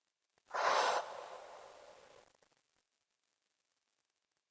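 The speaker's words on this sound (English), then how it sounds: "take 3 deep breaths, breathing in through the nose and breathing out through the mouth." A single deep breath, drawn in through the nose and let out through the mouth, makes one long airy exhale that fades gradually into silence, close and alone.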